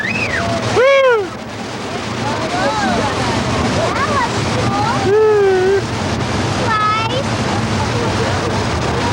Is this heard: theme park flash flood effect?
yes